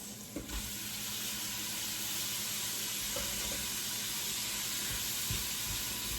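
Vegetables drop into a pan of frying bacon with a brief clatter, then a steady hissing sizzle carries on at moderate level throughout.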